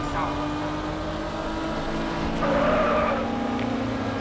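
A rear-wheel-drive drift build car in the mobile game Madout2, its engine droning steadily at moderate volume with a brief rise and tire squeal partway through, under faint background sound.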